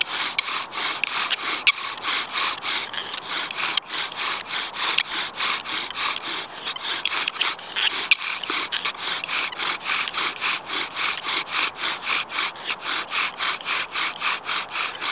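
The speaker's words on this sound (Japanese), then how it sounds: "ここからは火を起こすための摩擦になりますので" A bow drill grinds steadily against a chaga fireboard to make fire by friction, a close, rhythmic rasping rub repeated in quick back-and-forth strokes with no speech.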